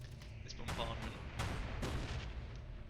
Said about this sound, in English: So far we're not doing too bad on this bombardment.